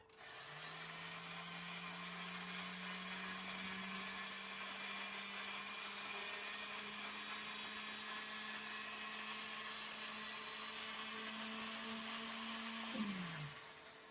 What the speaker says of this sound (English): I have a foot pedal down here, and I'm going to wind.